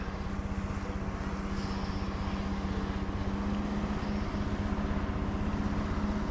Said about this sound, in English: We got helicopters.